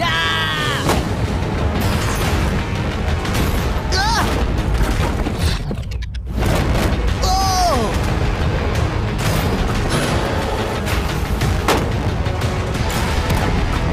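A rapid series of gunshots hits a steel shipping container, loud sharp bangs repeating across the clip over a dense roar, with voices calling out between shots.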